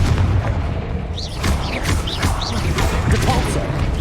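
Repeated Confringo fire-spell blasts in Hogwarts Legacy give heavy booming impacts and crashing explosions over a dense, loud battle din. Whooshing spell sweeps and a voice cut in and out.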